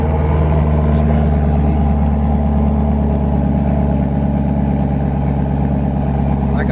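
A 2021 Chevy Camaro LT1 RS with a 6.2 liter V8 idles after a remote start, a loud, steady, deep rumbling drone that stays close and even throughout.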